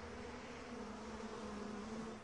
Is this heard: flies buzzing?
yes